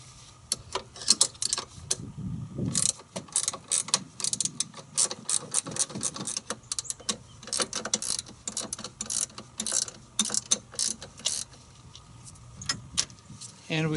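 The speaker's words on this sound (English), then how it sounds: "Now I'm going to remove the nuts and bolts holding the Amsoil filter to the bracket." Quick bursts of a ratchet wrench click and rattle in irregular runs as nuts and bolts come off an oil filter bracket on a Dodge diesel, close and fairly quiet, with metallic clinks between the runs.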